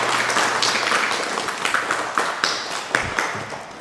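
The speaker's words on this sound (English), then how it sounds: "you should give yourself a really big round of applause" Audience applause after a Buddhist teaching session with Thich Tâm Tiến, scattered clapping with distinct individual claps standing out as it gradually thins and fades.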